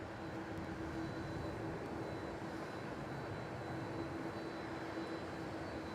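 A Qantas jet takes off from Melbourne Airport bound for Adelaide, heard as a distant, faint, steady engine rumble that holds evenly throughout with no voices.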